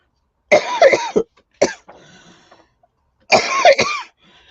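Close, loud coughing: a quick double cough, a short pause with a faint catch of breath, then another harsh cough.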